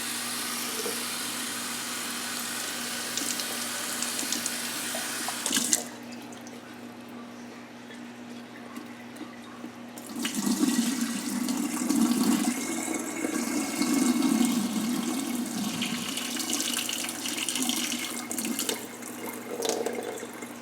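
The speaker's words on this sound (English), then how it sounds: "when I get some water in there, kind of slosh it around" Water sloshing and splashing as sprouts are rinsed in a jar at home, a steady running-water wash that drops out briefly midway, then returns with louder, busier sloshing up close.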